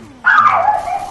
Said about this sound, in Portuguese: Até o cachorro tá entrando nessa.